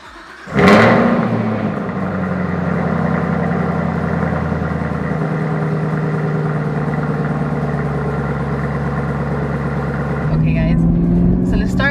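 A 2019 Chevrolet Camaro ZL1 1LE engine starts with a sharp burst and then settles into a loud, steady, deep idle that holds close and continuous, rising slightly near the end.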